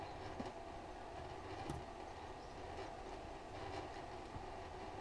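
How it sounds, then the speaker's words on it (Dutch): Train rolling along in the physics puzzle game Human Fall Flat, a steady rumbling clatter with faint clicks running continuously and fairly loud throughout, no talk over it. "Hey, pak die trein."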